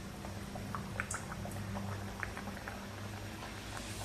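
Puri made from varai (barnyard millet) dough frying in hot oil, a steady bubbling hiss with scattered small pops and crackles, moderately close and without any voices.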